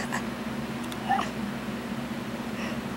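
A sick cat gives a short, strained meow near the middle, with faint fainter cries before and after over a low steady hum in a quiet room; no talking.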